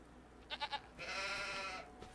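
Sheep in the video game Farming Simulator give a quick stuttering triple bleat, then one longer, wavering bleat, fairly close and clear over quiet background.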